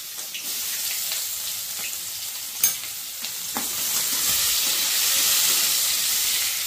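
Chopped onion frying in a hot pan for potato bhaji, a steady bright sizzle with a few stirring clicks and scrapes, close and fairly quiet, growing slightly louder toward the end.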